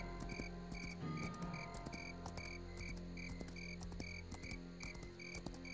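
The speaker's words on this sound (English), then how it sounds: "the crickets in this game is actually making me kind of sleepy" Crickets chirp in steady, evenly spaced pulses across a dense night-ambience bed in a fantasy role-playing game, mixed with other insect and frog-like calls, fairly faint and with no talking.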